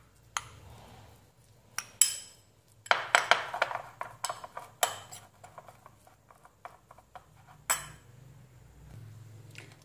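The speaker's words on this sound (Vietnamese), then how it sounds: "Mình trộn đều với hỗn hợp thịt này lên để cho nó ngấm gia vị vào." Minced meat seasoned with black pepper is stirred in a bowl, with irregular close clinks and scrapes of a utensil against the dish and quiet gaps between strokes.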